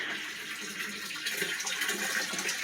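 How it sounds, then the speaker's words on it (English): Water steadily draining out of a tilapia tank after the plug is pulled, a continuous rushing, gurgling flow at close range without a break. "Letting it go and drain out"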